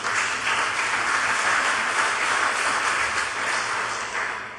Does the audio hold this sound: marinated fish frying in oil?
no